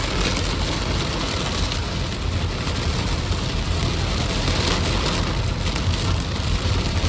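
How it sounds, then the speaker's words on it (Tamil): Dense, roaring downpour with gusting wind, heard from inside a Kia Syros on the road, a loud continuous wash of noise that never lets up. "சரியான மழை, காற்று மழை"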